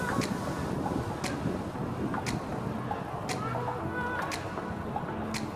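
Steady wind blowing outdoors on a sunny, cool day at a market, a constant broadband rush that fills the whole clip, with a few faint clicks over it.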